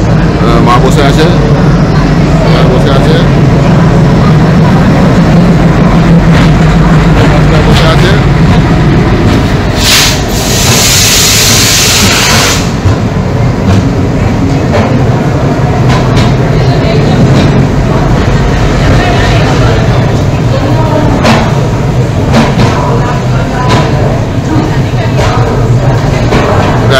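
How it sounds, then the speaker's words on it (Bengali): Heard from a train in fog on the Varanasi to Kolkata route, a rail engine hauling two coaches rolls past with a loud, unbroken rumble and clatter, and a sharp hissing burst comes midway. "একটা ইঞ্জিন দুটো কোচকে টেনে নিয়ে যাচ্ছে"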